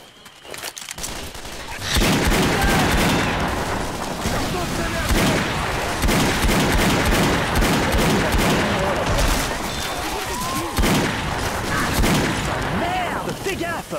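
Dense, continuous Left 4 Dead 2 gunfire fills a swampland level, with heavy blasts from a grenade launcher landing amid rapid shots. The barrage is loud and sustained and stays steady almost throughout, after a quiet opening second.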